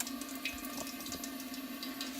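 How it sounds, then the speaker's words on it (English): Water runs steadily from a tap into a hot water bath canner pot, a constant close rushing hiss with a slight filling resonance and no voices. "First thing I'm going to do is fill my pot, my hot water bath canner"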